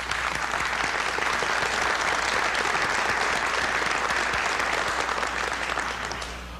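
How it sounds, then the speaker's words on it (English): A crowd at an awards show applauds the crew and finalists, a thick, even roar of clapping that holds steady for several seconds and then begins to taper off at the end. "How about a big round of applause for the crew of tonight's show, as well as the finalists who contributed groundbreaking programming."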